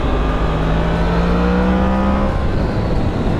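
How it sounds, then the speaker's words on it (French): A 2016 Yamaha MT-10 four-cylinder crossplane motorcycle engine runs close and loud, holding a steady, even drone with a rising tone partway through, with no voices over it. "il ne fait pas le bruit d'un 4 cylindres normal, il fait le bruit un peu d'un crossplane"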